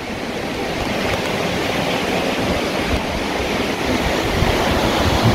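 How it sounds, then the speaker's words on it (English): The River Congo flows as a broad, steady roar of water, with dense, even rushing noise that is loud and constant throughout and no voices. "This is the River Congo."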